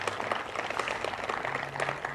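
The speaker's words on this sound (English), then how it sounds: "give him a round of applause" Audience applause at a public event acknowledging officials and school board members, a dense, steady patter of many hands clapping close by, continuing evenly without a break for about two seconds.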